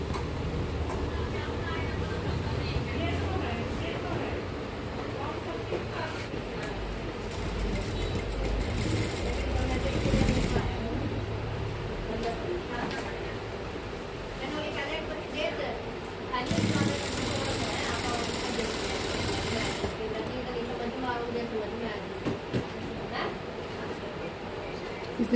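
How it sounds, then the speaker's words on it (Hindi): A sewing machine runs steadily while final stitching goes into a pair of trousers with a pocket, zip and elastic waistband, a continuous mechanical whir that carries through the whole stretch with a voice talking over it. "इस तरीके से हम अपना फाइनल सिलाई लगाने जा रहे हैं।"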